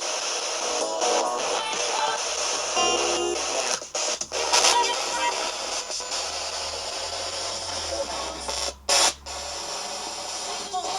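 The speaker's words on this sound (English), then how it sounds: "make your voice heard through the white noise of this device in front of me" Dense white-noise hiss pours from a ghost-hunting device in an old Victorian hall, loud and continuous with brief dropouts and crackly bursts, a low hum underneath.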